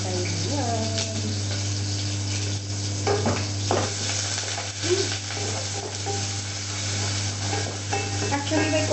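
Food stirred and cooking in a rice cooker pot, with scraping stirs and a soft sizzle close by over a constant low hum, plus a few scattered knocks from around the middle onward and no clear talking.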